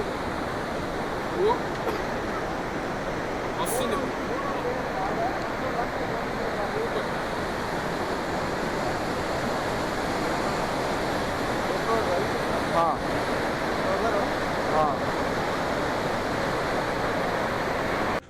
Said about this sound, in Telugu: చాలా వాటర్ వస్తున్నాయి అనమాట